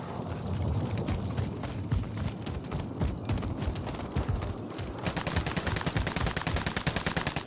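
Sustained enemy gunfire in the 1984-era combat game Iron Trials '84, a dense stream of rapid shots and bursts, loud and continuous, growing sharper and more clipped in the final seconds.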